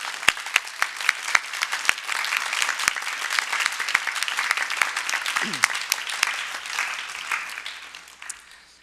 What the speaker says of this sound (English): can you give your teachers a big round of applause, please?